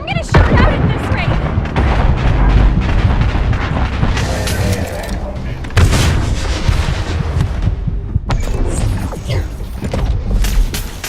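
Gunfire and explosions in The First Descendant video game: loud, dense shooting and heavy booms rolling on without a break, with voices talking over the combat.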